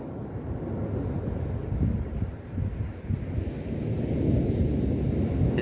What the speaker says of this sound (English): Got a bit windy down here.